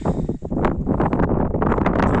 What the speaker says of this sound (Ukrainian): Вітер капець сьогодні